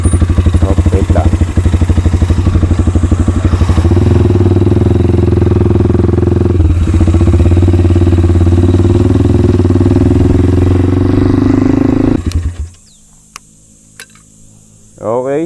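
Xplorer 250 sports motorcycle engine idling close by, a loud steady rapid thrum with a shift in tone partway through, then cutting off abruptly near the end, leaving near silence and a few faint clicks.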